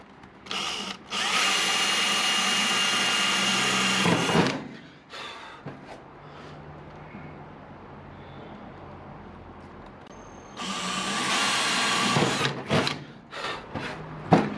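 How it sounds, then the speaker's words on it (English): A power drill boring a small pilot hole, running in two loud, steady bursts of about four and two seconds separated by quieter handling noise, close to the microphone with no talk. "I am going to drill a little pilot hole first though."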